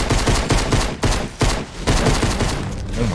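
Heavy sniper rifle fire in Fortnite Battle Royale, a dense, loud run of overlapping booming shots and impacts filling a few seconds of chaotic gameplay.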